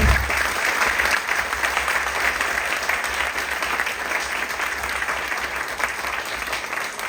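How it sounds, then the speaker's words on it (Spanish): A crowd at the UACM Cuautepec campus applauds its coordinator in a sustained, dense wash of clapping that stays loud and steady from start to finish. "queremos pedirle más bien a todos ustedes un fuerte aplauso para nuestra coordinadora"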